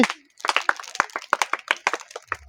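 An audience claps for a prize winner at a balloon-popping dart game, with bursts of loud, quick, uneven hand claps close by.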